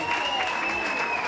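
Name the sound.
audience applause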